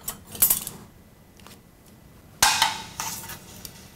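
Minced garlic going into a pan of hot oil, with clinks and scrapes of a utensil against the pan: a few sharp metallic knocks, then a louder clatter and sizzle-like hiss, close and without talk.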